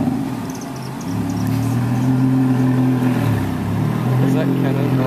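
A loud, throaty car engine rumbles nearby, its low exhaust note rising and holding steady, with faint high insect-like chirps in the background.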